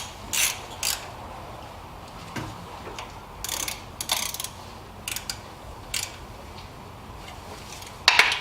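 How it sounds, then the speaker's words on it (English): A ratchet wrench snugs up coil pack bolts on a Honda J-series V6 engine, giving short bursts of quick clicking ratchet strokes separated by pauses, close and fairly quiet. "Just snug them up a little bit with the wrench."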